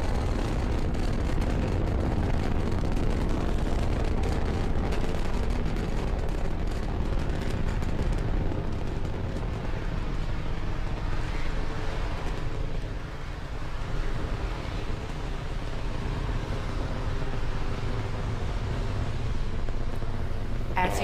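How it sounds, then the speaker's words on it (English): A Falcon 9 rocket launching with the TESS spacecraft gives a sustained, broadband roar that rumbles steadily throughout, with launch commentary spoken over it. "Falcon 9 has successfully cleared the pad and is now on its ascent with the TESS spacecraft in its fairing."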